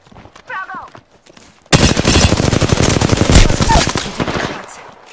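Gunfire in the battle royale shooter Apex Legends: after a brief spoken call, a sudden, loud, sustained burst of rapid automatic fire runs for about three seconds, then fades into scattered shots.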